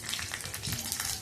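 Dried red chillies, urad dal, cumin and mustard seeds fry in hot oil for a thotakura fry, giving a brief steady crackling sizzle with small pops, close and moderately loud.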